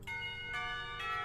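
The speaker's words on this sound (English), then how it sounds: "school bell ringing out startles us both" A school bell from the game Katawa Shoujo rings out in a bright, resonant run of three clear metallic strikes, each one sustained and overlapping the next, with no talking.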